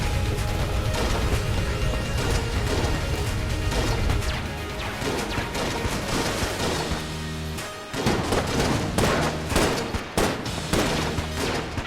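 Repeated crashing shotgun blasts from the Void Shotgun in the game Enter the Gungeon, loud and dense, with bursts of gunfire and impacts over game music, briefly dropping out before resuming.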